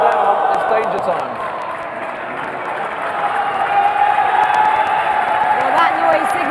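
A live esports crowd at the FIFAe Club World Cup cheers and roars in a sustained swell of applause and shouting during a match between FC Basel and Raptors Twister, loud and continuous with commentary voices over it.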